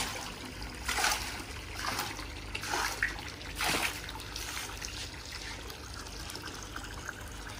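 Mixed water treatment is poured into a biofloc gourami fish pond, a steady splashing pour with several louder surges, continuous and fairly close throughout.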